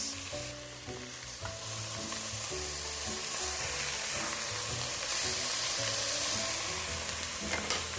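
Vegan miso soup being stirred in a pot with oil at the bottom, giving a steady hiss and sizzle with repeated soft scraping and clinking strokes from the spoon, close and alone.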